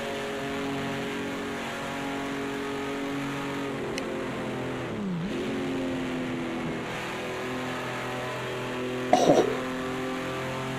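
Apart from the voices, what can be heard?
race car engines in video game Project Cars 2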